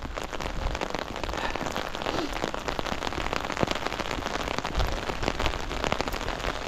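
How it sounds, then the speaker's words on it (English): Rain falls steadily outdoors during a walk, a dense, continuous patter of drops hitting surfaces all around, with no talking over it. "Hopefully after this rainy day, that'll be it for the rain for a while."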